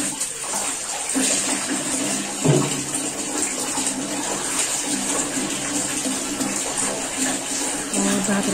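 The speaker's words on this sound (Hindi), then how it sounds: "कपड़ों को मेरा साबुन लग चुका था और मैं इनको खंगाल रही हूँ।" Soaped clothes being rinsed in water in a small home bathroom, with continuous splashing and sloshing, a running-water wash and a sudden heavier slosh partway through.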